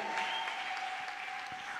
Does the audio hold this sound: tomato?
no